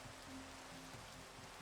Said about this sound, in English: Raining on Minecraft?